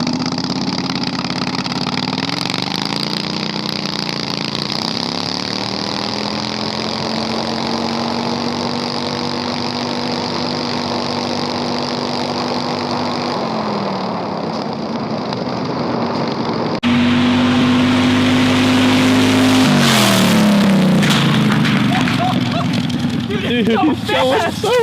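A 670cc engine vehicle on a top speed run, its loud droning motor rising and falling in pitch as it revs, then roaring harder and closer partway through, with people's voices under the engine.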